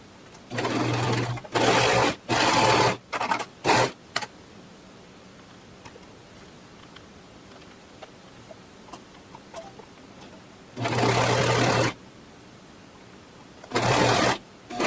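A serger stitches a shirt seam in several short, loud bursts of whirring, separated by quiet pauses with faint handling noises.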